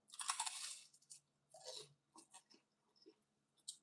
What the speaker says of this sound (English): The crunch on this quesadilla is perfect